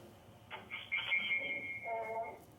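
Telephone line noises come through live on a radio call-in show, a brief electronic tone and warble as a caller connects.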